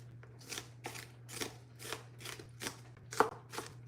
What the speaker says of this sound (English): Dicing up this onion